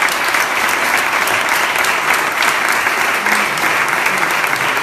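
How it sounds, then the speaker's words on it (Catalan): Audience at the 2018 Vinari vermouth awards ceremony applauds a bronze prize for a white vermouth, a close, full, steady round of clapping from many hands that runs unbroken throughout. "Un aplaudiment, sisplau"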